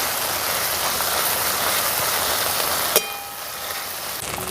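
Ginger and green chili paste fries with tomato in a pan, giving a steady, close hiss of sizzling. The sizzle dips briefly after a sharp clink near the three-second mark, then carries on.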